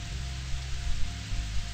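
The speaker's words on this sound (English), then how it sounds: "I've never seen it rain so hard." Heavy rain in the video game Eternal Eden, a dense, steady hiss of downpour that fills the whole stretch evenly and loudly, with a low rumbling undertone and no voices.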